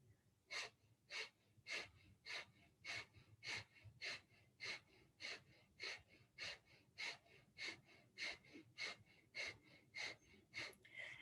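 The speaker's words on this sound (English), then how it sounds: "And begin breath of fire, panting like a dog through the nose." Breath of fire in a Kundalini yoga practice: rapid, forceful nasal panting that repeats as a steady, even series of about twenty sharp breaths, close and alone.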